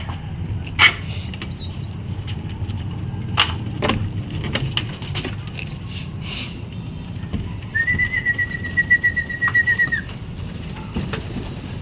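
Pigeons cooing in a loft where they are being fed, with soft bird calls over a steady low rumble and a brief whistle-like tone partway through.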